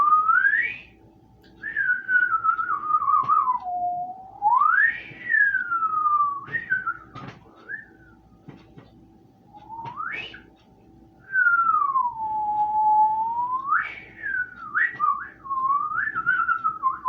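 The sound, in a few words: whistled flute tune imitation from SpongeBob SquarePants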